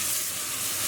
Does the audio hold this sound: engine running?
no